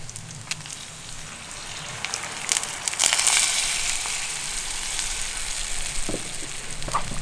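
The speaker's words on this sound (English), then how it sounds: "within 30 seconds, this stuff started back sizzling" Summer sausage sizzles and crackles steadily in a hot pan at an outdoor kitchen, a close, even frying hiss with occasional pops and scraping.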